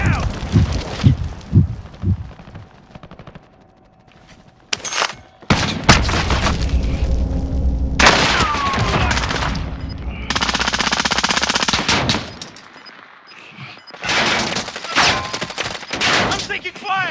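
Intense close-range gunfire: rapid machine-gun bursts and heavy booms with short lulls between them, loud throughout, with faint voices mixed into the din.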